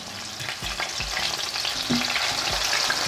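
Chicken breast cutlets frying in a pan for a quick lunch, a steady close sizzle with soft crackles and several low thumps of the pan or utensil, heard alone without talk.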